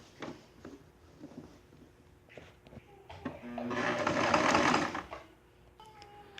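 A sewing machine stitching the shoulder seam of a draped jacket, a short close run of rapid mechanical whirring with quieter handling clicks and rustles before and after.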